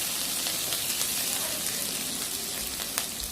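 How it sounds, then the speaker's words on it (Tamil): Curry leaves frying in hot oil for masala idli, a steady even sizzle and crackle with occasional sharper pops, close and moderately loud throughout with no talk. "கருவேப்பிலையும் நல்லா இந்த எண்ணெயில் பொரிஞ்சு வரணும்."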